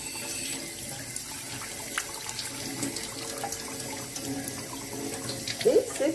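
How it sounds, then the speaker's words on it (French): Tap water runs steadily while a part of a Nama J2 juicer is rinsed under it, with a continuous splashing hiss and a slightly louder splash near the end. "On rince à l'eau."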